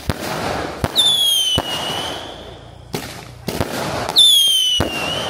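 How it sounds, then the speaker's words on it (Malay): Sharp firecracker bangs pop irregularly during Hari Raya celebrations, several sharp cracks with a whistling, whining rocket sound rising between them, fairly close and loud outdoors. "Kita nak bakar mercun"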